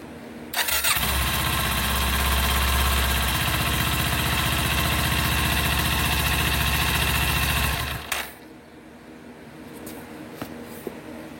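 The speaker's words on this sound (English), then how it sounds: "I'm going to start up the bike, let it run until it pumps oil into the engine" A motorcycle engine cranks and catches, then runs at a loud, steady, close idle for several seconds before it is shut off, leaving a quiet background with a few faint clicks afterward.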